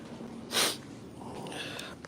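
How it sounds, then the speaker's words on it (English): A person blowing their nose with a single short, loud burst, heard indoors near the listener during a casual chat stream with a runny nose. "I gotta blow my nose."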